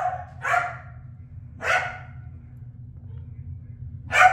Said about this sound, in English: apologize for the barking